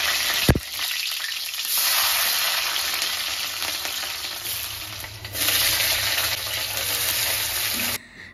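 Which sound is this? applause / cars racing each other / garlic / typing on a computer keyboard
garlic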